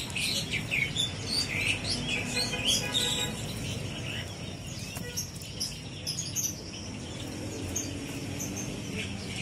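An F1 canary sings among other caged birds at a Palmerah bird market in Jakarta, bright chirps and trills scattered over a busy low background murmur of the market.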